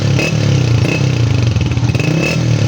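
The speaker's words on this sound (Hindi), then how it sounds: "इनकी मोटरसाइकिल का जो इन्होंने HL3 लगवाया इसका आपको साउंड भी सुनाने थे" A motorcycle engine fitted with a new HL3 silencer revs loudly and close, a steady rumbling drone with throttle swells and a brief dip near the middle, heard alone without talk.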